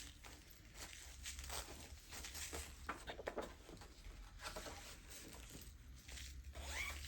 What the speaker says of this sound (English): This is just in another one of those zipper bags.